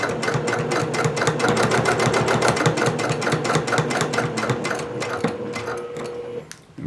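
Sewing machine stitching a seam on a courier bag, back stitching with a fast, even, rapid needle chatter that runs steadily and then stops.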